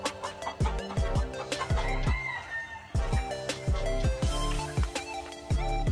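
Several roosters crowing in a breeding cock coop on a Vietnamese chicken farm, loud repeated calls overlapping one another close by, with some clucking between them.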